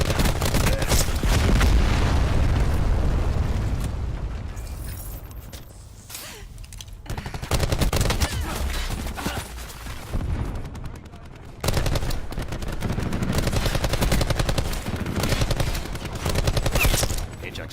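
Assault rifle gunfire in Call of Duty: Black Ops 4 multiplayer, with loud sustained bursts of automatic fire, a brief lull in the middle, then more rapid volleys continuing to the end.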